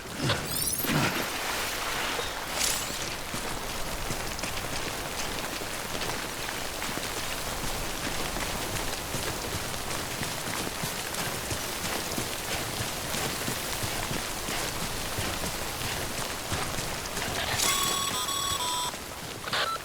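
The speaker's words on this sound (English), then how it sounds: "Don't stay out in the rain any longer than you have to." Rain called timefall in the video game Death Stranding, a dense, steady hiss of rainfall lasting throughout with a few faint electronic tones near the end.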